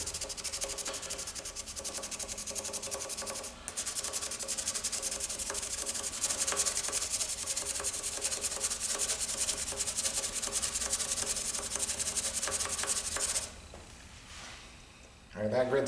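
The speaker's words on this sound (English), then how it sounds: "we'll stop the lathe and sand it down laterally." Sandpaper rubs lengthwise along a fountain pen blank held in a stopped lathe, a close, continuous rasping scrub of rapid strokes that ends abruptly and leaves quieter handling noises.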